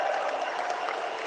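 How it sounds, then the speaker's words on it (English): Audience at a Pierre Poilievre Canada First political rally in Hamilton, Ontario applauds in a thick, steady wash of clapping from a large crowd, with no voices standing out. "Give him a big round of applause for the anti-woke General."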